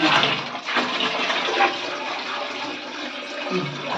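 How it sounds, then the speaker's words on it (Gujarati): Hot nagod herbal water pours into a plastic barrel, making a continuous rushing, splashing gush of liquid close by that stays fairly even and only eases briefly in places. "નગરનું પાણી નાખી"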